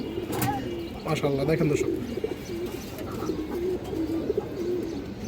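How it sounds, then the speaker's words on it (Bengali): A large female Bagha pigeon of an old breed coos in low, rolling, throaty calls, close by, while someone speaks over the first part of the cooing. "বড় সাইজের একটা বাঘা মাদি কবুতর দর্শক, একদম পুরান জাতের কবুতর"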